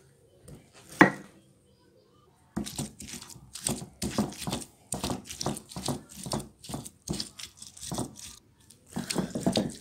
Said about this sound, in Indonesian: Nah ini akan saya haluskan secara manual ya.